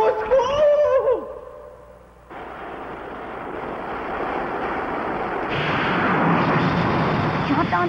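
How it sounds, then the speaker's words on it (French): Cartoon thunder from lightning striking the ground comes as a sudden deep rumbling roar that swells and sustains loudly, following an earlier cartoon voice that cuts off abruptly. "C'est la foudre qui a touché terre."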